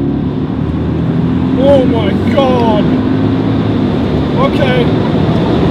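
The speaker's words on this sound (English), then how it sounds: "It sounds like it sounds really good. And this thing has a standard exhaust." A 2005 Mercedes CLS 55 AMG engine with standard exhaust drones loudly and steadily from inside the cabin while a person exclaims briefly over it.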